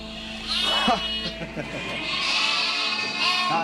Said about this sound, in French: les bêlements qu'on entend, ce sont les agneaux qui appellent leur mère parce qu'ils l'ont perdu dans la cohue